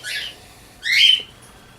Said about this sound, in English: Yes, I'm in my bird's room.